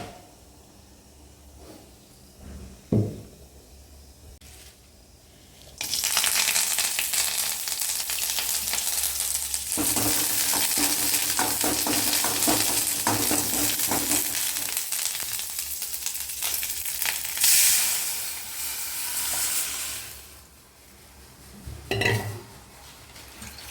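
Mustard seeds and asafoetida fry in hot oil for a rasam tempering, a loud, steady sizzle with crackling that fills most of the clip. Softer kitchen clatter and clinks of utensils come before and after it.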